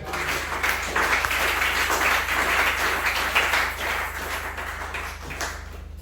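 A church congregation at a Thursday prayer exhortation applauds the Lord, steady dense clapping filling the room for several seconds beneath a constant low hum, fading slightly near the end.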